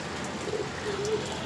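Racing pigeons coo softly close by in light drizzle, a couple of brief low calls over a steady rainy background hiss.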